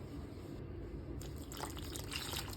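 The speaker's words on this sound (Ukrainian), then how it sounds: "перемішуємо все і заливаємо теплою водою" Warm water, about 37 degrees, poured into a yeast dough mixture in a home kitchen, giving a steady close liquid splash and trickle that brightens and strengthens toward the end.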